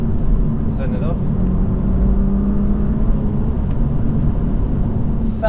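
BMW engine heard from the cabin with Active Sound Designer switched off, a loud, steady, low hum of the motor at constant pace, with a couple of brief clicks and rustles.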